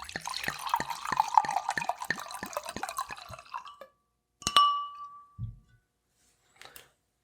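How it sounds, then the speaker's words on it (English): Drink, smelling of apple, poured into a glass: a rapid run of glugging drips and splashes for about four seconds, then a sharp clink of glass and a few quieter knocks, close and alone. "ASMR pour"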